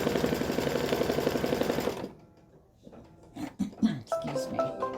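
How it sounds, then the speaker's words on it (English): An embroidery machine stitches the tack-down outline of an applique pumpkin with a steady, rapid mechanical whir, then stops, followed by quieter handling clicks and a voice talking. "we're going to stitch color number 3 now, which is the tack down"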